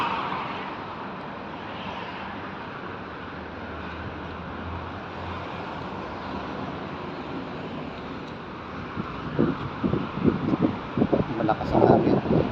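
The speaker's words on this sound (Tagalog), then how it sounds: "Malakas ang hangin." Strong wind gusts roar steadily through a UAE city street where people wait for a work bus, a broad constant rush with sharper buffeting toward the end.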